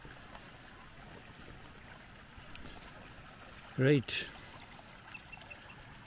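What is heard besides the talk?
rainwater flowing from a culvert into a temporary pond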